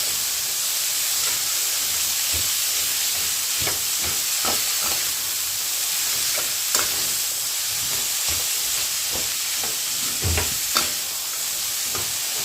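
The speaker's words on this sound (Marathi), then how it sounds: "आता कोबीसुद्धा एक दोन मिनिट भाजून घ्यायचं" Chopped cabbage roasting in a hot pan for a cabbage and green pea bhaji, a loud continuous sizzle and hiss with scattered stirring scrapes and clicks, close up and without talk.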